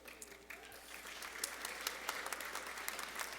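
Audience applause fills a graduation ceremony hall at Freedom High School, a steady wash of many hands clapping at moderate distance, with a few sharper claps standing out through the whole stretch.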